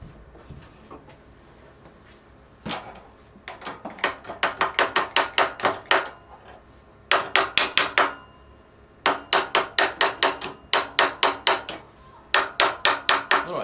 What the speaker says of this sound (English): A little hammering is easier than loosening and tightening bolts again.